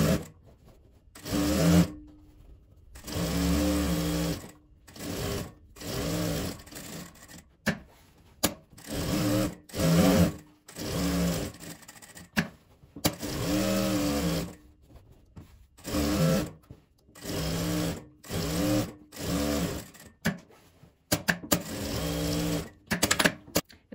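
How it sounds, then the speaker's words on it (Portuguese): A sewing machine stitching fabric for a bag, close mechanical whirring in repeated bursts of a second or two separated by short pauses, some runs longer, continuing throughout. "Agora eu vou levar lá na máquina e costurar ele todo e deixar uma abertura para desvirar."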